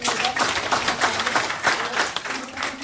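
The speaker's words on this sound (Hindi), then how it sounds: "तालियां एक बार उनके लिए भी हो जाए" An audience at a motivational talk claps for a team member, a brief round of moderately loud, slightly uneven applause with a voice faintly present underneath.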